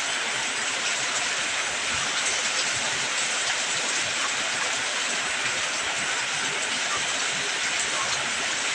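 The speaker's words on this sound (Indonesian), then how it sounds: "kita nikmati dulu keindahan alam dengan turunnya hujan" Steady rain falls over a village, a dense continuous hiss with a soft patter that stays even and loud throughout, with no voices over it.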